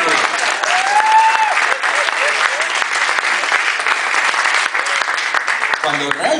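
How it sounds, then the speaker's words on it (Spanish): A stand-up comedy audience applauds, dense sustained clapping at full volume through the whole stretch, with scattered cheers and a voice rising near the end. "Aplaudan por los medios."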